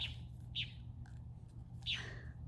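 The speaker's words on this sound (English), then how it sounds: "That bird is so loud." A bird sings loudly outdoors in short, bright chirping phrases repeated about four times over a steady low background hum.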